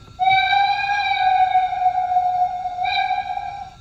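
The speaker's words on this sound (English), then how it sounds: "a different playable whistle" A steady, sustained LGB 2180 model train whistle tone, digitally sounded with Zimo, with a rich, chord-like sound, holding for several seconds and briefly swelling near the end, with no voices.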